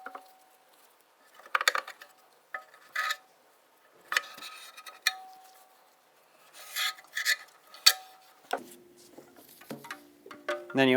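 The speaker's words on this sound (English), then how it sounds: "Run a clean rag along the groove with a screwdriver." Clean rag pushed with a screwdriver along the valve cover gasket groove of a 2000-2006 Honda CR-V, giving short scattered rasping rubs and scrapes, close and fairly quiet, with pauses between strokes.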